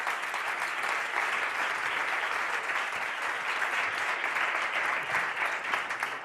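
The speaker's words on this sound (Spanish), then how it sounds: "Fuerte aplauso para ambos, por favor." Sustained, loud applause from an audience welcoming two guests at an interview event, a dense, even wash of clapping that holds steady throughout without any talk over it.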